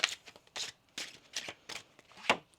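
A deck of tarot cards is shuffled by hand, a series of quick papery riffles and snaps in short bursts, close and fairly quiet with no talking.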